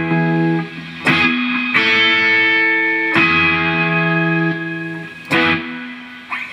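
Electric guitar run through an AmpliTube 2.6 distortion amp simulation, moderately driven rather than harsh, playing sustained chords with a few sharp strums and reverb tails, alone with no talking.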